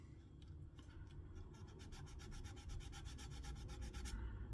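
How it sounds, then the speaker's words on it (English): A heavy grit sanding sponge rubbing a plastic part on a 1/48 MiniArt P-47D model kit, a faint close rasping that turns into quick, evenly paced back-and-forth strokes before stopping. "I got some it's really heavy grit sponge. So I'm starting with that, and I'll just sand it down"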